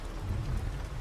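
Steady rain pours down, a dense, even hiss with a low rumbling undertone that runs throughout. No voices are heard.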